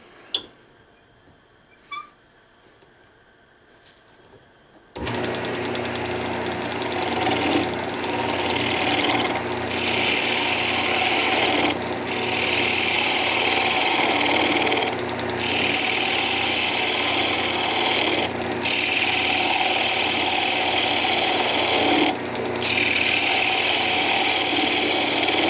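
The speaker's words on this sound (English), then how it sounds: "Now I'm just going to use my bowl gouge to shape it a little bit." A bowl gouge shaves a redwood Christmas ornament spinning on a wood lathe. After a few seconds of near quiet with faint clicks, a steady, loud, close scraping hiss starts and runs to the end with brief dips.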